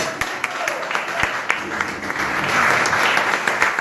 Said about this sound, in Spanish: Gloria, denle un aplauso al Rey.